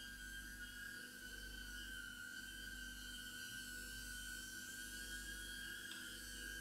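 A tiny Eachine E010 whoop quadcopter drone hovers at about half throttle, giving off a steady, continuous high-pitched motor whine with a buzzing hum beneath it, even and unbroken throughout.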